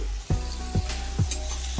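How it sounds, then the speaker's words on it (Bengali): Onion sizzles in a pan while being stirred, four brief scraping strokes landing at a steady rhythm over a continuous close, soft frying hiss. "পেঁয়াজটাকে খুব বেশি ভাজার দরকার নেই জাস্ট একটু নাড়াচাড়া করে নিয়ে"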